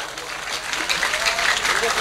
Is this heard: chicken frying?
no